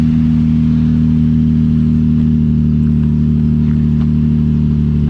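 A Nissan 350Z with its muffler removed idles while warming up, giving a loud, steady, deep rumble that holds even throughout with no revving.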